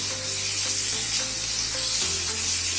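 Chopped chicken and chopped tomato fry in a hot pan with a loud, steady sizzle, close by, with a low hum underneath and no talking.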